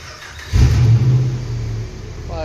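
A truck's Hemi engine cranks and catches, then settles into a steady, rumbling idle close by after a brief rise in loudness.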